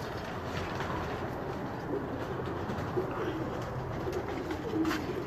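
Pigeons on a rooftop, soft repeated cooing over a steady rumbling background, moderately close and fairly faint.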